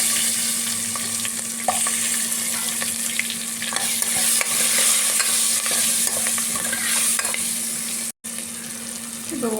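Garlic, curry leaves and small shallots sauté in a pan with a continuous close sizzle and frequent stirring scrapes, steady and unbroken apart from a brief dropout near the end.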